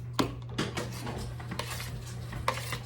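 Sugar being added to a big bowl of pink applesauce in a home kitchen, with a few clinks of a utensil against the bowl and soft scraping and stirring, close and fairly quiet.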